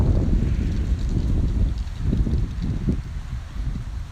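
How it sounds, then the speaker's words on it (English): Wind buffets the microphone outdoors as a DJI Mavic Pro drone flies a waypoint route near a small island, a loud rumbling roar with gusty swells throughout and no talk. "It's pretty windy out here"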